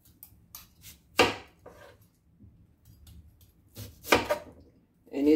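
Knife chopping half a purple onion on a cutting board for sofrito, a few sharp, close cuts spaced irregularly with quiet pauses between them.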